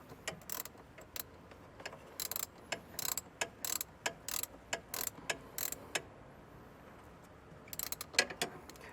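Ratchet clicks from tightening a ring terminal nut on a battery positive post during trailer wiring harness installation on a 2016 Ford Transit, a few quiet bursts of rapid clicking across the span, close and faint, with no talking.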